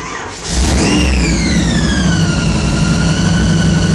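A supercharged 1969 Chevrolet Camaro V8 rated at 1,000 horsepower revs up hard after a quiet idle, then holds a loud, steady high-rpm roar with a rising whine for several seconds, close and alone.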